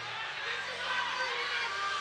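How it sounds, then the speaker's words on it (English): A lacrosse crowd in a stadium grumbles and murmurs in a steady, distant wash of voices, with no distinct shouts standing out. "And you hear the crowd, how they are so beside themselves, not happy with the call either"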